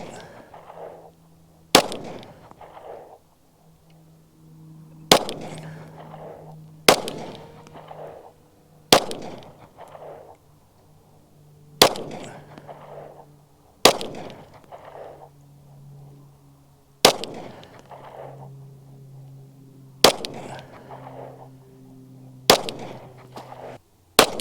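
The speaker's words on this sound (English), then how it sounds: "we're gonna put some more rounds in it from 21 feet, see if we can tighten up that grouping" A first-generation Taurus PT-111 Millennium Pro 9mm pistol fires about ten sharp, loud shots at a target 21 feet away, spaced irregularly, each followed by a short echoing decay and quiet gaps.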